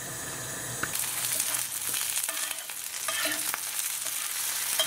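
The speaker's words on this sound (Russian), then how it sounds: "Жарим его до золотистого состояния." Smoky clouded agaric mushrooms (clouded funnel) fry in a pan until golden, giving a steady close sizzle with occasional stirring scrapes and clicks throughout, without talk.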